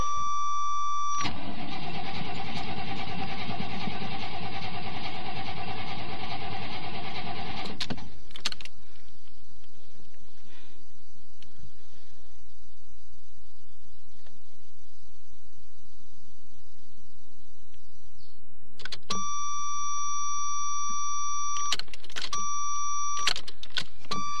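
An old fuel-injected Chevrolet Suburban that has not been started in a long while cranks and catches, running loudly for about seven seconds before cutting out. Steady electronic warning chimes and a few sharp clicks follow in the quiet.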